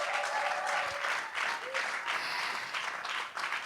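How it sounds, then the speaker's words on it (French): Audience applause fills a hall during a church choir performance, steady dense clapping from a crowd at moderate distance with a faint voice over it, lasting throughout. "Est-ce qu'on peut acclamer pour le Seigneur?"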